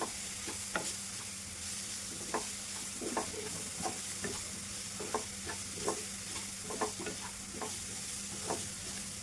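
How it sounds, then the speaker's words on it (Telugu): Potatoes frying with masala and chili over low heat give a soft, constant sizzle, with scattered sharp scrapes and clicks of a spoon stirring through the pan, close and moderate in level, no talk. "ఇలా సిమ్లోనే మసాలా, కారం మంచిగా మన ఆలూకి పట్టేలాగా ఫ్రై చేసుకోవాలి"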